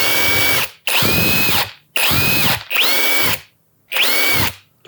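A Mollar CIW 21500 impact wrench running at speed 3 fires in four loud bursts of just under a second each, separated by short silences, its high whine and rattling hammer action close and clear with no talk.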